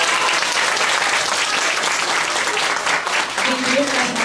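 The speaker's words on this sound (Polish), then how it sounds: "To jeszcze raz duże brawa" Audience at a kindergarten Children's Day show claps in sustained, dense applause from start to finish, with children's voices rising above it near the end.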